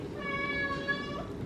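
A pet cat meows in a drawn-out, chatty call close by in an apartment, its tonal cry running through most of the moment.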